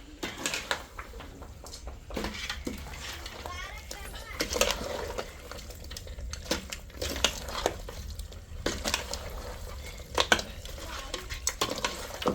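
Chicken pieces being stirred in a pot of boiling liquid for a rustic village-style country chicken dinner, with soft scraping and sloshing under steady talk, plus a few sharper clinks of the spoon against the pot.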